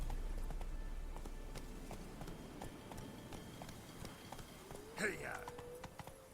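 Roach, Geralt's horse in The Witcher 3, gallops with a steady clip-clop of hooves close by. A voice calls out briefly near the end, and a high tonal sound flares up around the same moment.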